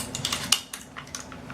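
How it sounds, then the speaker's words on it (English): A rifle bolt locked to the rear, then released and ridden forward by hand, giving a quick run of faint, close metallic clicks and scrapes. "locking the bolt to the rear and then riding the bolt forward"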